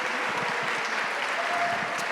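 A crowd claps for a men's basketball team at a college athletics hall of fame ceremony, a dense, even round of applause held at moderate loudness for the whole stretch.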